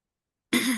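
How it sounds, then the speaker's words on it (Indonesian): After a moment of silence, a single abrupt cough or throat clearing bursts out close to the microphone. "saya batuk nih"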